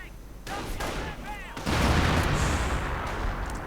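Artillery shells landing in a Company of Heroes battle, a burst of heavy explosions and rolling gunfire rising loudly midway, with a commentator talking over the opening and faint whistling before the blasts.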